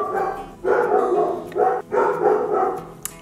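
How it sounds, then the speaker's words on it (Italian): A dog barks repeatedly at leaves drifting past, in three or four loud bursts of barking close by with short gaps between them. "Se Elisabetta smettesse di abbaiare a tutte le foglie che vede passare, sarebbe straordinario."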